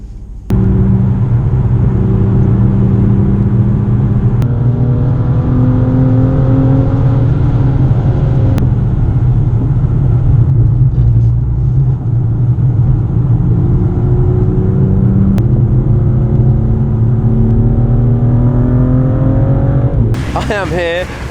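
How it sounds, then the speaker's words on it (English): BAC Mono M2 single-seat track car driving on a wet Spa circuit, its engine holding a loud, steady droning note with rising rev sweeps through gear changes, close and continuous, with talk over it and a burst of louder revving at the end. "I thought I'd take the M2 out for a little drive, see how it goes, have a little cruise round"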